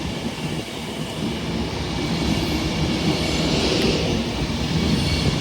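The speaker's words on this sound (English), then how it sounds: "Also arriving in behind is another Avanti West Coast 390 Pendolino, working a service to Glasgow Central." Avanti West Coast Class 390 Pendolino electric train arriving at Carlisle station, a steady loud rumble of wheels and traction with faint rail hiss building slightly as it rolls in, no voices.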